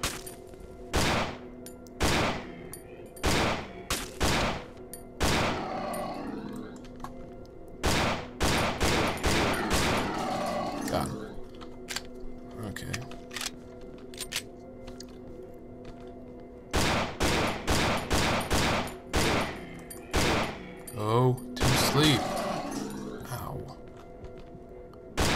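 Bursts of video game gunfire as enemies are shot, sharp repeated shots in rapid clusters separated by short pauses, loud and close, with some quieter clattering in between.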